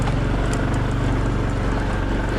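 A Honda PCX 160 scooter ridden uphill on a rough road, a steady loud engine drone with wind noise and no pauses.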